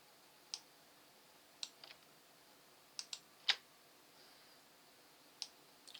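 Computer mouse clicks while drawing with a pen tool in image-editing software, a handful of quiet, sharp, sparse clicks spaced irregularly in a hushed room.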